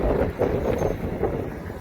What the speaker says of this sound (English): It's so windy, blowing everything away.